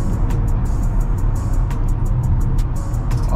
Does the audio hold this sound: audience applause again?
no